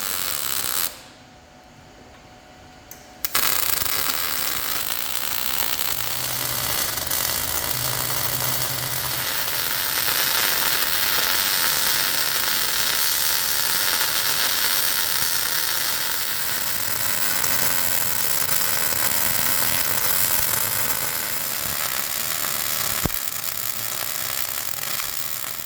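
A welder joining a replacement steel piece into a damaged trailer, a steady loud crackling buzz that runs almost continuously after a short pause near the start.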